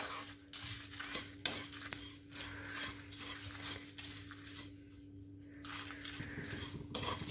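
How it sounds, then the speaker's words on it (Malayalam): Chili powder being stirred as it roasts in a pan over a low gas flame while making dry coconut chutney powder. A spoon scrapes and stirs steadily against the pan over a soft, continuous sizzle, close by, with no voices. "ഗ്യാസ് ലോ ഫ്ലെയിമിലിട്ടിട്ട് ഒരു 5 മിനിറ്റും കൂടെ നമുക്ക് ഈ മുളക് പൊടിയൊക്കെ ഒന്ന് മൂക്കാൻ വേണ്ടി ഇളക്കാം"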